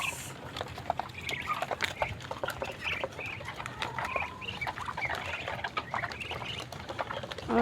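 Several birds call and squawk in a busy outdoor yard, with quacks from male ducks mixed among other fowl sounds, steady and moderately loud throughout.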